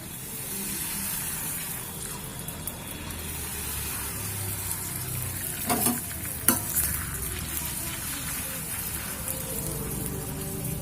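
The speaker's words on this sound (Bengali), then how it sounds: "তো তেল গরম হয়ে গেছে এবার আমি ফুচকাগুলোকে ভেজে নেবো" Fuchka puris deep-frying in hot oil, a dense rain-like crackle that holds steady throughout, with a couple of brief clatters midway and no voices.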